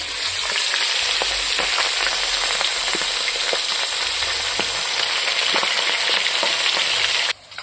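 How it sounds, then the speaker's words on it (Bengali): Fish head dropped into hot oil in a wok for a village-style mochar muri ghonto: a loud, steady sizzle with scattered crackles and pops runs continuously, then cuts off abruptly at the end. "আমি এখন এই মাছের মাথাটা, তেল গরম হয়ে গেছে, এখন তেলে ছাড়ি দিলাম।"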